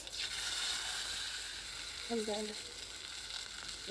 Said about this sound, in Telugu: పోపు దినుసులు ఇలా ఫ్రై అవుతున్నప్పుడు